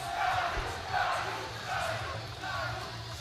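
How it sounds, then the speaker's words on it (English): A crowd at a powerlifting meet yells and cheers continuously, with rising and falling waves of voices and shouting close by. "I hear the crowd yell Caillou"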